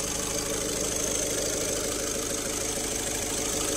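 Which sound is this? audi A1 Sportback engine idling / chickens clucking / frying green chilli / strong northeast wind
audi A1 Sportback engine idling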